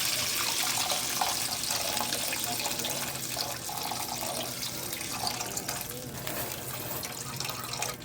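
Water poured into a pot of fried fish for sinigang sa miso, a steady close rush of running liquid with faint splashing that continues unbroken, no voices over it.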